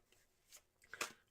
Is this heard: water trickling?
no